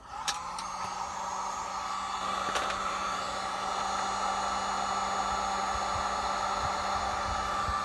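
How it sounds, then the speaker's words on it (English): A heat gun warms fuel hoses during a fuel pump install on a 2007 Chevrolet Silverado Classic, blowing a steady, even airy roar with a low hum underneath, close by and continuous throughout. "So, now, I'm going to heat these hoses up."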